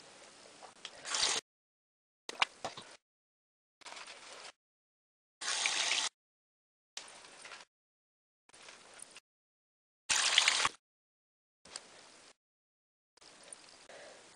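Makeup brushes are rinsed under running water, giving about ten short splashing bursts, each a second or less long and separated by brief gaps of silence, fairly quiet and close.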